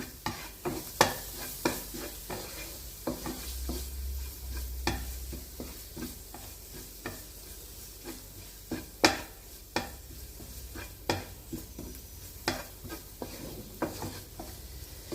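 A spoon stirs an onion and spice mixture with a half spoon of garam masala in a pan, making irregular close scraping strokes over a faint sizzle, with no talking.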